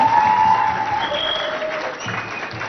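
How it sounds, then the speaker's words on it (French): A school audience in Biltine, Chad, claps loudly after a poem recital at a televised inter-school contest, a thick continuous wave of clapping that tapers slightly toward the end. "Je vous demande d'applaudir très très fort pour l'accompagner"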